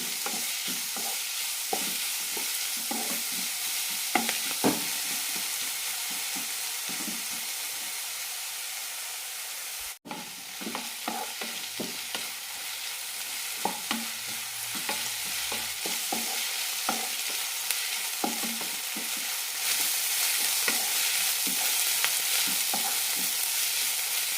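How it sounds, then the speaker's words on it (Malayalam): Sliced onions sautéing in a pan for Kerala chicken mappas curry, a continuous loud sizzle and hiss broken by frequent scraping stirs of a spoon, close up and with no one talking. "നന്നായി വഴറ്റിയെടുക്കാം സവാള നന്നായി വഴന്ന് കിട്ടണം"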